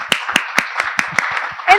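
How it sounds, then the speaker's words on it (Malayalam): An audience at a film event claps in short, sharp bursts at a fairly regular pace, close and fairly loud, with a voice starting up at the very end. "ഒരു കൈയടി കൊടുത്തേ."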